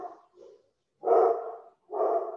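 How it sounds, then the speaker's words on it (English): A dog barks in a household room, giving several muffled barks in close succession with short pauses between them, moderately loud and not far off. "Sorry about my dog barking."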